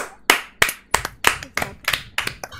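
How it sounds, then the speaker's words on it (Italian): About nine sharp hand claps in a steady, slightly loose rhythm, close by and alone, like a small group clapping briefly. "Ragazzi, un applauso."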